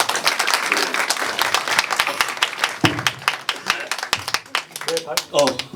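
An audience at a party founding convention gives a round of applause, dense clapping under an announcer's voice, with a person speaking clearly near the end as the clapping thins.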